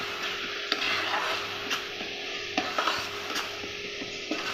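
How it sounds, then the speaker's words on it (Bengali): Ground coriander, cumin, Kashmiri chili powder and vegetable masala fry in a pan for a pure veg paneer kofta, giving a steady close sizzle with intermittent scraping stirs and no talking. "এবার এটা ভালো করে একটু ভেজে নিয়ে"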